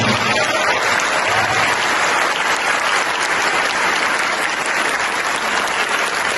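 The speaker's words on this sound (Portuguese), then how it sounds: "Vamos acolhê-los com uma salva de palmas" Sustained, dense applause from a parish congregation in Brasília welcoming President Bolsonaro and his wife Michelle, steady and full throughout with no pause.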